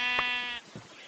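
A sheep in the video game Minecraft gives one short, clear, nasal bleat up close, then trails off into quiet game background.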